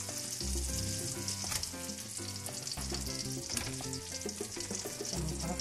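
Figs caramelizing in melted butter and sugar in a pan, a continuous close sizzle and bubbling fry with faint stirring, steady throughout and free of speech.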